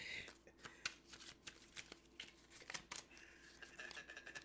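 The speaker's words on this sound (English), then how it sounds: "I'm gonna shuffle the cards" A deck of playing cards being shuffled up close, with quick riffling bursts and soft snapping flutters repeating in an uneven rhythm, fairly quiet with no talk.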